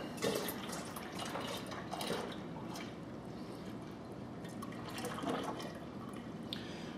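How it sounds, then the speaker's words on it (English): Beer wort pouring steadily into a fermenter from a Mr. Beer home brewing kit, a continuous splashing wash with occasional drips, fairly faint and with no one talking. "we go ahead and pour our wort into our fermenter"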